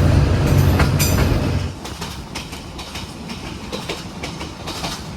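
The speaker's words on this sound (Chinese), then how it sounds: "下午1点05分，我们的 SE1 次列车鸣笛清溪站下行出站，前往芽庄方向。" Vietnamese SE1 train pulling out of Thanh Khe station toward Nha Trang, with a heavier low rumble at first that eases into lighter rolling clatter and intermittent wheel clicks, close and continuous.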